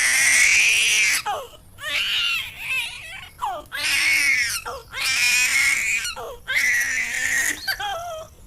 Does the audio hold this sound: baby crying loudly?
yes